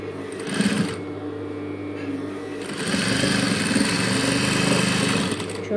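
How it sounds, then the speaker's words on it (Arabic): A sewing machine stitches a zipper in a continuous steady whirr, pausing briefly near two seconds before running on louder, with a voice talking over it. "شوف بس انا قاعد اخيط"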